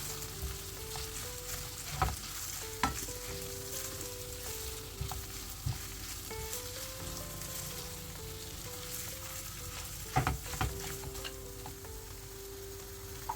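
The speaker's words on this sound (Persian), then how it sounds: "رب رو با مواد گوشتی خوب تفت میدم تا بوی خامی رب از بین بره" Tomato paste sautéing with a ground meat mixture for a quick pasta sauce gives a continuous close sizzle, with occasional spatula scrapes and taps against the pan and a faint hum underneath, and no talking.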